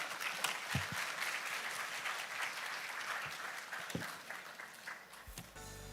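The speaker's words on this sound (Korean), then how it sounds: "여러분의 큰 박수로 서혜원 책임 연구님을 모시도록 하겠습니다" A large audience at a Korean science and technology conference talk concert applauds to welcome a researcher on stage: dense, sustained clapping at moderate distance that tapers off near the end.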